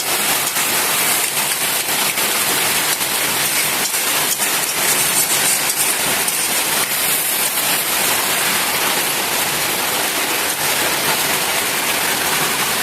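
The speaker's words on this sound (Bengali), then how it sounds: "খুব জোরে বৃষ্টি পড়েছে এখন।" Heavy rain pouring down outdoors near a home kitchen, a loud, continuous roar of dense patter with fine drop clicks on surfaces, steady throughout with no voices.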